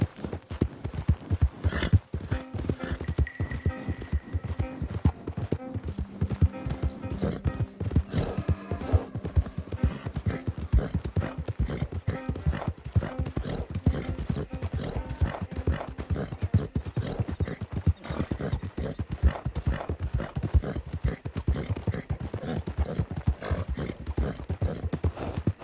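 Horse hooves clip-clop in a steady, continuous rhythm in the video game Red Dead Redemption 2, close and unbroken throughout, with a faint neigh and other game sounds in the background.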